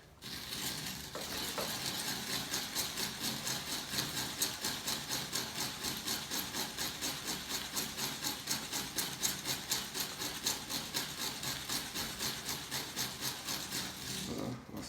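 A drill fitted with a PVC pipe bit bores into red granite, making a steady gritty grinding with a fast rhythmic pulsing that holds even and fairly loud from start to finish.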